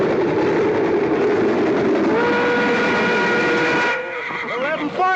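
A steam train arrives with a long, loud steam whistle held over the rumble of railroad cars, the whistle cutting off near the end as the wheels settle; voices are faint.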